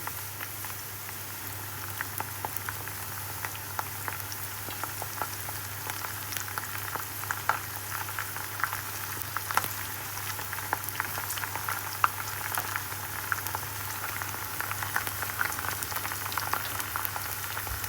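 Onions with curry leaves fry in a pan for a Jaffna-style brinjal curry, making an even, continuous crackling bubble with tiny pops, steady and close, with no talking.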